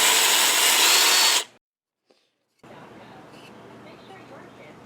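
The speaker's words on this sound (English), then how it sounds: "when I use that Forstner bit, it makes a square bottom, straight across bottom with a tiny little dimple in the middle" A power drill bores into wood with a Forstner bit, a loud steady whine for about a second and a half that stops abruptly, followed by a brief silence and then quieter workshop room noise.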